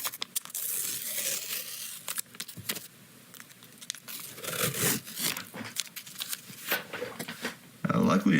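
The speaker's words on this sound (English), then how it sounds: "I'm going to peel the tape off." Tape being peeled off a cut-down Stevens 620 shotgun barrel, heard as a run of tearing, crinkling strips close by, with no one talking while it is pulled.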